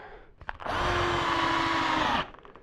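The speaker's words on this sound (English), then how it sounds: "I'm just going to run a screw down" A power drill drives a screw into wood for a shop-built utility taper jig, a single steady whine of about a second and a half that winds down at the end, with a few faint knocks before it.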